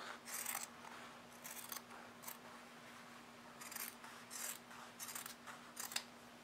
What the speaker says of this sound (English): I'm just gonna cut it the same size